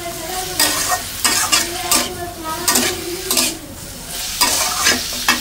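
Bitter gourd is stirred in a frying pan with ginger, garam masala, spices and salt, giving a steady sizzle broken by repeated scraping strokes of a utensil against the pan, close up.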